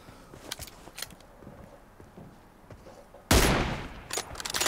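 Gunshots in a shooting video game, a few faint distant pops followed by a sudden loud close burst of rapid fire near the end.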